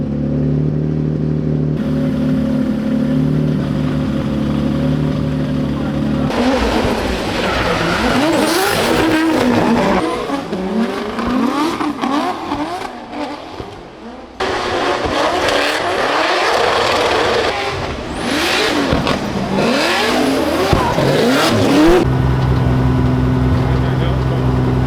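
A drift car runs hard on an unforgiving race track in Latvia, the engine idling, then screaming through rev changes with tire squeals and skids in two long loud bursts; voices are heard during the quieter stretches.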